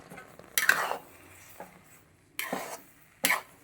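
Upma is stirred quickly in a pan with a spoon, three short scraping bursts of stirring and clinking separated by pauses, close and alone.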